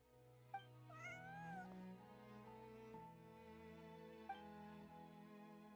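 Meowing cat in Genshin Impact, a few short rising-and-falling mews over sustained game music, the calls close and moderately loud near the start and again briefly near the end.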